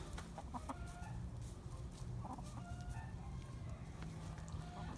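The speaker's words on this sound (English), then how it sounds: "our tiny rooster." Several chickens cluck and murmur nearby, short overlapping calls repeating throughout against a steady outdoor background.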